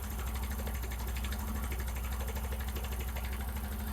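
A motorcycle engine idles at a close, steady, even rhythm while its carburetor screw is adjusted, the low pulsing continuous throughout with no talk.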